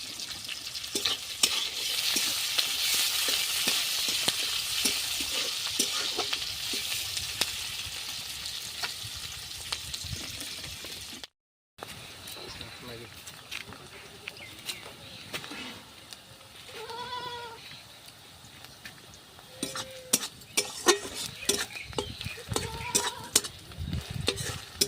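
Onion seeds and slit green chillies sizzle in hot oil in a pan, a busy hiss that is loud at first and eases after a brief break, with goat-like bleats nearby in the later part.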